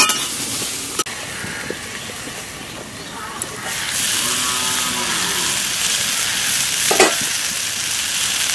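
Green banana pieces frying in hot oil, a loud steady sizzle and hiss close by with occasional knocks and stirring scrapes.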